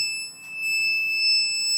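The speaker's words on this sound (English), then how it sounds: "Our torque wrench only goes to 250, so if you hear it beeping," A torque wrench gives a steady, high electronic beep that holds through the whole moment, faint and unbroken, with no voices over it.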